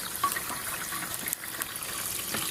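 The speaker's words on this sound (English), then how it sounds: "use my little hose here and just going to wash it out" Small hose spraying water to rinse out a boat part during winterizing, a steady hissing spray that runs continuously and fairly quietly with slight fluctuations.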